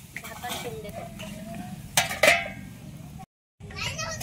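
A spoon stirs Maharashtrian-style chicken curry in a pot on a wood-fired chulha, scraping and clinking against the metal through a steady background of children's voices, with a brief gap of silence near the end.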